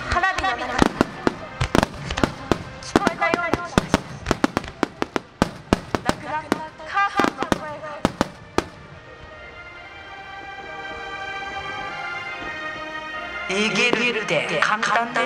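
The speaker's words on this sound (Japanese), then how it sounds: "復興の気持ちを込めた色とりどりの花火の中" Rapid bursts of fireworks cracking and booming in a dense volley at the Omagari fireworks competition in Japan, then a crackling, sizzling tail and a renewed flurry of pops at a distance.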